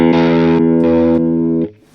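An electric guitar through an analog distortion pedal rings out a gritty, sustained chord, repeated a few times in even pulses with added noise, then cut off abruptly.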